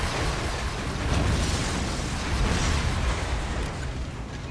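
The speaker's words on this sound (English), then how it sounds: "Particle cannon ready." A sustained, roaring sci-fi particle cannon blast rumbles at full loudness for several seconds, dense and booming like a heavy weapon firing in the game Command & Conquer Generals Zero Hour.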